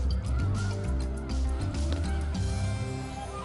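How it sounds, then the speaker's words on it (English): Many snow geese on their northward spring migration stopover at Delta, Utah, honking continuously as a dense, layered flock chorus at steady loudness with no talk. "come celebrate the retreat of winter with thousands of snow geese as they stop in Delta, Utah on their migration north"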